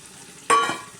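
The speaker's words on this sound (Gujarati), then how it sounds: "એમાં બટેકા અને વટાણાની નાખી દઈએ." Potatoes and peas drop into a hot spiced oil tempering, setting off a sudden loud sizzle that flares up and then settles into steady frying hiss, heard alone and close.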